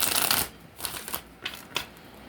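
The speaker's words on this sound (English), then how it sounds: "Let's shuffle real good, real quick." A deck of tarot cards is shuffled quickly, opening with a long riffle and then several crisp, separate card slaps, close and fairly loud with nobody talking.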